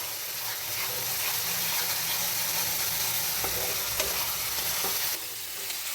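Spice paste with a little garlic sautés in oil for a parshe fish curry, giving a loud, dense, continuous sizzle up close, with occasional spatula scrapes and the hiss dropping slightly at the end.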